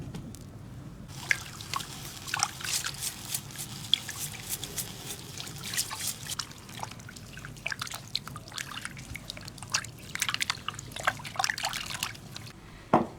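Blanched pork belly is rinsed under running water in a home kitchen, giving a steady trickle and splash with scattered drips and soft squishes of meat being handled, close and moderately loud, with no talking.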